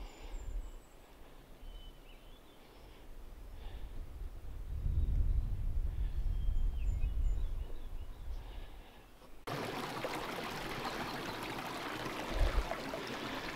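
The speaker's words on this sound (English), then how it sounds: "a spring where the water comes right out of the mountain" Mountain spring water flows out of rock near a lake in the Pecos Wilderness, a continuous close splashing and trickling that swells midway and then shifts to a brighter, hissier rush, with no talk.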